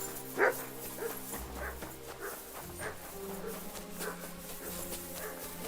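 The dog Mutt in Kingdom Come Deliverance 2 gives a sharp yelp, then soft whimpers and low whines, close and fairly faint against a quiet ambient background.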